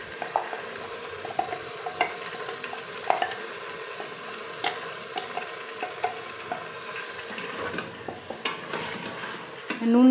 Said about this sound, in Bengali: এবার পেঁয়াজের বেরেস্তাটা দিয়ে দেবো এতে